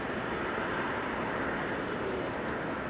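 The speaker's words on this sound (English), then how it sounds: "The BizJet going to NA, Gulfstream 550, taking off from runway 22." A Gulfstream 550 business jet taking off from runway 22 at Amsterdam Schiphol Airport, heard as a steady, broad distant engine roar that holds even throughout with no voices.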